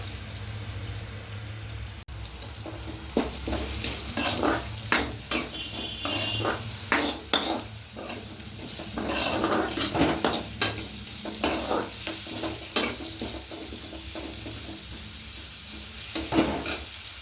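Onion, green chili, crushed garlic and curry leaves fry in a pan with a continuous close sizzle, punctuated by repeated sharp stirring clicks and scrapes of a spoon against the pan, no talk.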